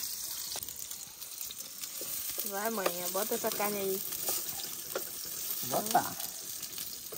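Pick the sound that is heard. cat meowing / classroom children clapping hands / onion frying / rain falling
onion frying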